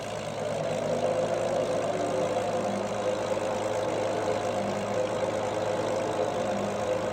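The P-40B fighter's piston engine in Microsoft Flight Simulator 2020, a steady low droning hum with a rough, throbbing texture, running constantly at moderate level with no voices.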